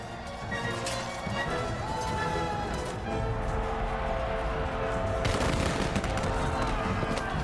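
A dense, noisy battle din of repeated arquebus and cannon fire, bursts and booms continuous throughout, with a sharper crack of shots near the end and faint voices mixed in, in a samurai battle scene.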